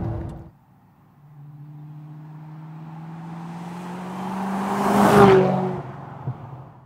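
A 1995 Aston Martin Vantage V550 with its twin-supercharged engine pulls hard under acceleration, the engine note climbing steadily to a loud peak with supercharger whine before easing off.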